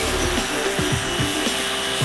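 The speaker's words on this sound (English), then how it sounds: "I'll get the pressure washer on it." A pressure washer blasts grime off a car's V8 engine, a loud, close, steady hiss of spray with rhythmic sweeping surges as the jet moves across the engine.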